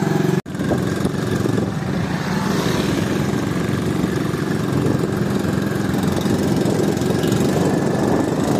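A motorcycle engine struggling through desert sand runs steadily and loudly with a rough, labored drone that holds for several seconds after a brief dropout near the start.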